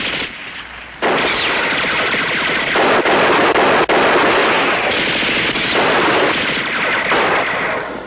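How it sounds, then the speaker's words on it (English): Machine gun fire in a World War II combat drama, with troops pinned down on a bridge; loud sustained bursts of rapid automatic gunfire with brief pauses between them, dense and near. "They're pinned down onto the bridge with a machine gun."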